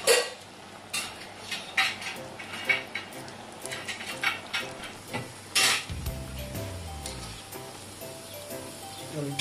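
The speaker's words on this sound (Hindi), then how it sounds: "चलिए इस तरीके से इसको, चलिए फ्राई कर लेते हैं।" Potato masala fries frying in a pan, with a constant background sizzle broken by repeated metallic clanks and scrapes of a spatula against the pan, close and fairly loud, with a little speech partway through.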